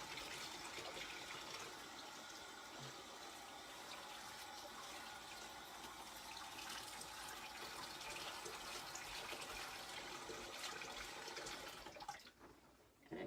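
Water runs steadily from a tap to wash ink off a chalk transfer, a continuous soft gushing flow that cuts off near the end.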